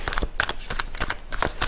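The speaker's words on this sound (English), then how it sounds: "Now I shuffled, you saw." Tarot cards being shuffled by hand, a run of crisp riffling bursts and soft papery slaps in quick irregular rhythm, close and clear with no talking over them.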